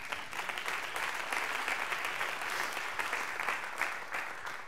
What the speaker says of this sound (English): clap your hands.